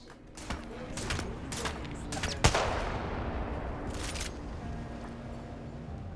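Video game gunfire in several short bursts and single sharp shots, with one louder crack near the middle, fairly quiet under a steady background wash.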